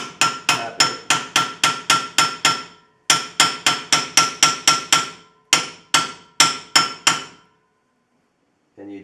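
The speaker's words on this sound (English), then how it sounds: "with your heavy hammer, you just tap it" Heavy hammer tapping a chisel to chip an old water pump gasket off a Ford Model A engine, sharp metallic strikes in quick rhythmic bursts of several blows with short pauses, loud and close.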